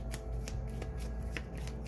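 Playing cards being shuffled and handled, a steady riffling patter with repeated soft snaps over a low background hum, close and moderately quiet, with no talking.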